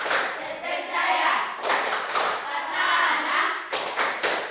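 A classroom group claps hands in a rhythmic chant, with bursts of sharp claps recurring in steady patterns while voices chant along.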